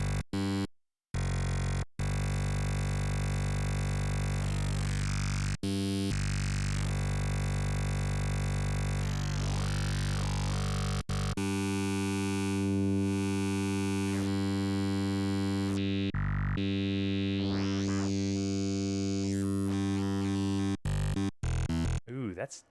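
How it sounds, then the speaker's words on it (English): Sustained synthesizer drone from a phase-modulated formant oscillator, its harmonic timbre shifting and sweeping as the modulation amount changes, with brief dropouts and glides over a long, steady tone. "I will change the M parameter or change the amount of phase modulation going to the M destination"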